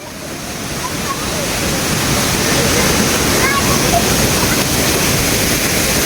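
Lakkam Waterfalls in Munnar, where many people bathe, roars steadily up close, a dense, constant rush of pouring water that swells slightly after the first second.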